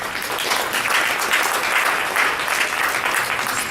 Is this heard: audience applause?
yes